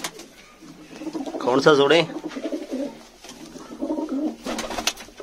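Pet pigeons coo nearby in soft, repeated throaty bursts, with someone talking over and between the calls.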